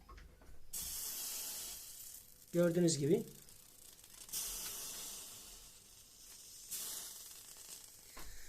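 Drops of water hit a hot plate on a 12 V, 5 A heater and sizzle. The hiss comes in short bursts and one sharp crackling spurt, with someone talking quietly between them.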